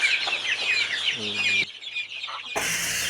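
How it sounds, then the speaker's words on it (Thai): Native chickens about six weeks old cluck and chatter continuously on a farm, a dense, busy flock sound that drops briefly before a louder burst of clucking returns. "อันนี้ก็เป็นไก่ที่ได้ อ่าหกอาทิตย์แล้วอะค่ะ"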